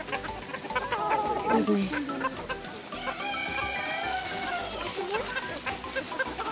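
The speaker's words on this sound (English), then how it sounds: "These are the Chinese silky chicken." Chinese silkie chickens cluck and call at close range in a zoo enclosure, with soft bird chatter running throughout and a person briefly speaking.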